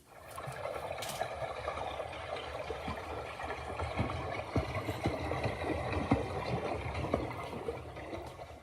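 A pedal boat on water, steady low churning and gentle splashing of the paddle wheel with scattered knocks, moderately close and continuous for several seconds.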